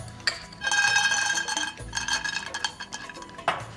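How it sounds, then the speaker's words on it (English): Peanuts dry roasting in a hot pan with a little salt, tossed so they rattle and clink against the metal in bursts, close and fairly loud, no talk. "That'll help dry roast the peanuts even quicker."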